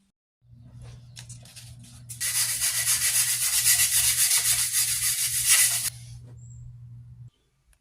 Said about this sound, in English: I'm done sanding it. It's all sanded down.